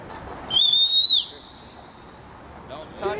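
A whistle blown in a single shrill, steady blast lasting under a second. It sounds close and clear over faint background noise, with a few soft noises after it.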